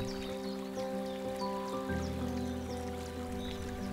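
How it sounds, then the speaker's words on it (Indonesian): Gentle, steady babbling of the Palayangan river flowing through forest near Pangalengan, a continuous close trickle and splash with faint bird or animal calls and tonal hums layered over it, no voices. "ditemani suara gemericik aliran sungai, juga suara binatang-binatang di hutan"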